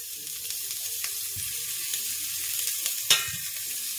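Beef sausages fry in a pan, a steady close sizzle with faint stirring scrapes and one brief louder spitting burst near the end.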